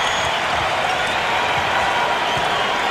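A basketball arena crowd at a 1991 Spurs versus Warriors playoff game cheering for the Warriors, a steady, loud wash of crowd roar and applause with bouncing and scuffing faintly underneath.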